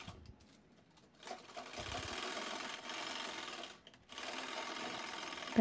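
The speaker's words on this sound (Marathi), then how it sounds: "त्यानंतर वरती एक एक शिलाई घेत आहे जॉईंटवर।" Sewing machine stitching along the joint of two handbag panels, a steady mechanical whir in two long runs broken by a short pause, close and fairly loud.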